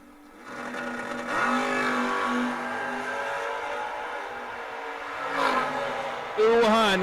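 A first-generation Camaro and a Monza launch off the line at a drag race, engines revving loud and rising in pitch over several seconds, with an announcer talking over the roar.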